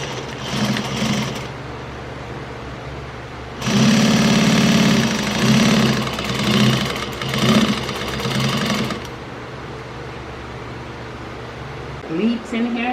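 A large sewing machine stitches fabric for a dining chair cover, its motor humming steadily with a louder fast-running burst in the middle, under a bright room hum.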